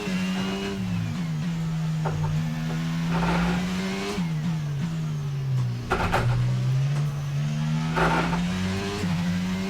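An F1 car engine in the F1 22 racing game on PS5, racing at the Spanish GP, whines loudly and continuously, its pitch rising and falling through repeated gear shifts and corners.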